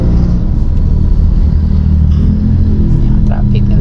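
Road traffic beside a church in Dasmariñas, a loud continuous rumble of car and motorcycle engines close by, with a steady roar throughout.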